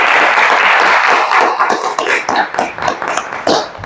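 An audience applauding a performer at a reading event, a brief burst of hand clapping that thins into scattered claps.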